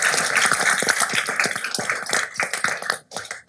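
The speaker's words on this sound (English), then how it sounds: "Ladies and gentlemen, one more round of applause for MVP." An audience at a city council meeting applauds two MVPs: a steady round of close, busy hand claps lasting a few seconds and thinning at the end.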